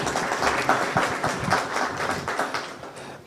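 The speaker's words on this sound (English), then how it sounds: "Another clap for him as he steps down." An audience at a moot court competition opening ceremony claps as a speaker steps down, a dense moderate patter of many hands ending in a sharper burst.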